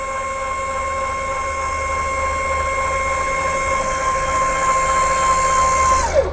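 A Harmar AL100 fully automatic mobility scooter lift raising, giving a steady mechanical motor whine with a constant tone that runs for several seconds and then winds down as it stops.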